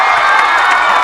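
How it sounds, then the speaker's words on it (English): Home crowd cheering at a high school football game, a dense, steady roar of many voices with shouts and whoops, loud and continuous throughout without a break. "it gives the home crowd something to cheer about"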